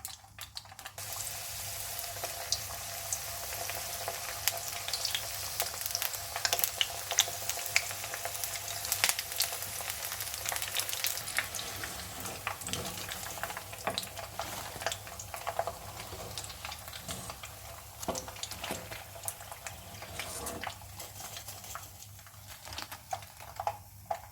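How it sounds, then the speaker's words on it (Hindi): Cauliflower florets for gobi Manchurian frying in oil, a dense continuous crackling sizzle with many small sharp pops throughout, close and steady, no talking. "बाकी की गोभी को भी जो है हम फ्राई करते हैं"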